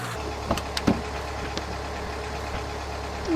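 A video game car engine runs steadily with a continuous low hum and a few small clicks and knocks over it, close and without speech.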